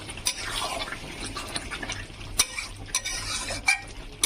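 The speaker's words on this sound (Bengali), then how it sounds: "দিয়ে ভালো করে নাড়াচাড়া করে নিতে হবে।" A spoon scrapes and stirs through a pot of thick, slow-cooked mutton curry, with soft wet sloshing and several sharp clinks against the pot sides scattered across the stretch, close and moderately loud, no voices.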